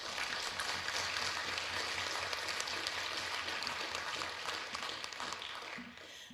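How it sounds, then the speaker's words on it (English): Audience applause fills a church hall during a summer musicale, a steady broadband wash of many hands that holds throughout and eases slightly near the end. "please give a round of applause to those people"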